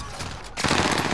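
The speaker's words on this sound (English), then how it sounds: "Bastard trying to shoot me." Enemy gunfire in a multiplayer shooter video game, with a quieter rattle that gives way after a brief gap to a loud, dense burst of rapid automatic fire close by.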